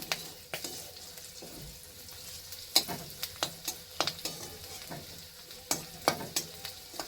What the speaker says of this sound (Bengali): এবার শাকটা দিয়ে দেব।